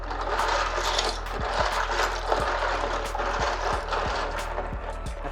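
Plastic keyboard keycaps being washed, a steady watery wash with repeated light clattering knocks and rattles throughout, close and continuous with no talking.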